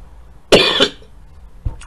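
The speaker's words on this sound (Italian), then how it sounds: "ho la tosse." One harsh, close cough from a man, a short rough burst, followed by a faint small throat noise.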